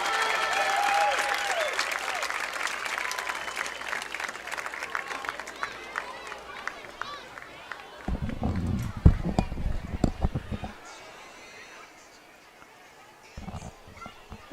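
Crowd at a high school football game halftime applauding and cheering for elementary cheer campers, scattered claps and shouts that rise, then thin out into fainter intermittent clapping, with a voice talking early on.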